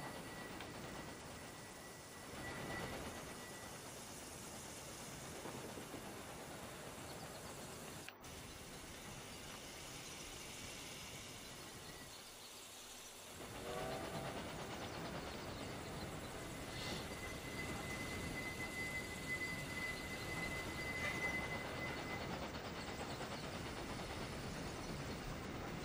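A train rolls through a railway world in the video game Railway Empire 2, giving a steady mechanical rumble with ratcheting and creaking tones that swell louder partway through, with no voices.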